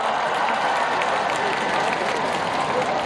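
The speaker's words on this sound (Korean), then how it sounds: "시상을 해주신 우리 성당의 교수님에게도 박수 부탁드립니다." An audience at an award ceremony for an onion song festival in Changnyeong applauds. The clapping is dense and steady, a continuous wash of many hands that lasts the whole moment, with no speech over it.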